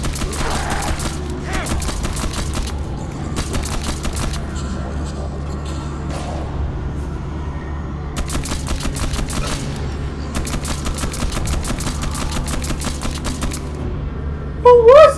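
A nail gun in Condemned 2 fires in long rapid bursts of sharp metallic clacks, several volleys separated by short pauses over a steady low hum, with a brief voice near the end.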